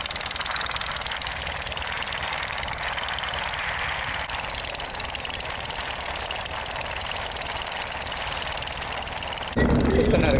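An outboard-style boat engine drones steadily while the boat moves across water along a coastal backwater, a constant mid-level hum with a brief louder change in the last second.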